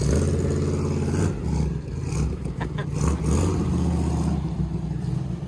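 A 1961 Corvette or 1957 Chevy hot rod engine runs close and loud, a dense low rumble with mechanical clatter and slight swells in revs, continuous throughout.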